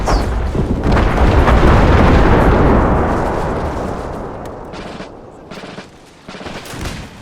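Hand grenade explosions and massed gunfire from a battle in the strategy game Empire: Total War, with a loud, dense roar of blasts that slowly fades into scattered, sharp musket cracks.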